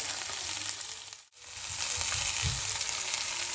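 Meat frying for Tiroler Gröstl sizzles steadily in a pot, a dense continuous hiss with a brief dip partway through and a low bubbling swell near the end, heard up close with no talking.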